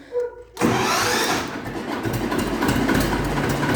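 The diesel engine of a Vladimirets tractor fires up after a brief cranking burst, then settles into a loud, steady, rumbling idle close by.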